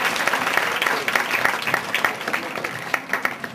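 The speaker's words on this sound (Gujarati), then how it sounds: "આપણે બધા તાળીઓથી વધાવશું." Sustained applause from a school audience at a prize function for an essay-writing contest at Sardar Patel High School in Jira, Amreli, Gujarat. Many hands clap densely and steadily, fairly loud and close, with no talking over it.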